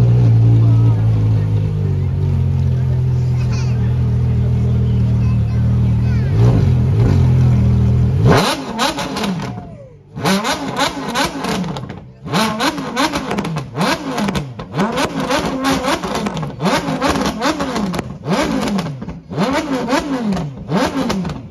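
A Porsche Carrera GT's ten-cylinder engine fires up after steady low idle-like rumble, then barks through a series of sharp, high-pitched revs with brief gaps between blips, loud and close.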